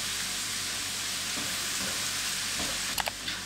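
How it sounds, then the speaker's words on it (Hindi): Garlic and ginger paste sautéing in a pan for Moradabadi yakhni pulao gives a steady close sizzle with light stirring and a few brief clinks near the end. "1 खाने का चम्मच लहसुन का पेस्ट और इसको सौते करेंगे"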